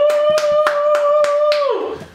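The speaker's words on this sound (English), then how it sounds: "round of applause" Several sharp hand claps ring out in a steady rhythm alongside a sustained tone that slides downward at the end.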